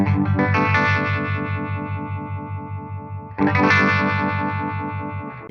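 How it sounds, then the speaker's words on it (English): Electric guitar through a Jimi Nova pedal on its vibrato setting with all knobs at noon: sustained distorted chords pulse in a steady wobbling throb, two strummed and held near the start and middle, with no talking. "we're on vibrato, all at noon"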